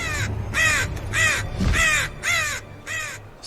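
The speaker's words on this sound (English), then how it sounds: "A crow?" A crow caws six times in a steady, evenly spaced series of harsh, loud calls, each short and rasping, with a low thump between two of them.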